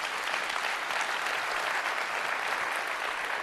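Steady, dense applause from a large audience at a tech talk, loud and even throughout with no pauses and no voices on top.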